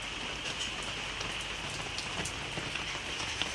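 Steady rain drums on a house roof damaged by a hailstorm, a dense, even patter that holds at constant loudness throughout without any voices.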